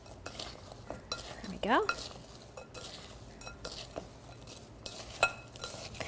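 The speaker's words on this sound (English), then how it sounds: "now I'm going to toss in my sugar and salt mixture and coating them really nicely" Fennel-roasted walnuts tossed with a sugar and salt mixture in a pan, giving soft scraping stirs and light clinks of nuts against metal, with one brief rising squeak and a short spoken remark.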